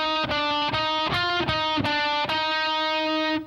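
Distorted electric guitar plays measure 8 of a riff, a run of sharp picked notes over a held tone that ends at about three and a half seconds, loud and close with no talk.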